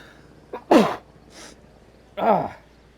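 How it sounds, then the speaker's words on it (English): A person sneezes twice, loud and close, and there is a short sharp breath before the first sneeze and a faint sound between the two. "I feel a sneeze coming on"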